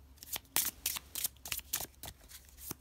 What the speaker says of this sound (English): let's go ahead and give these a shuffle for you guys